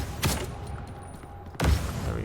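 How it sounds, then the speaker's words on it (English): Two sharp blasts from explosive ice projectiles fired in the roguelite shooter VOID/BREAKER, each a punchy thump with a short burst, spaced about a second and a half apart over low game ambience. "we're shooting 2 explosive ice things with each shot now"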